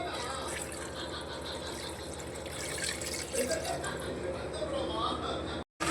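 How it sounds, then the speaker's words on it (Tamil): Water pours steadily into a pot of mutton curry with a continuous rushing, splashing sound, with a voice speaking Tamil underneath, then cuts off abruptly near the end. "இப்போ நம்ம வாட்டர் சேர்த்துக்கலாம்."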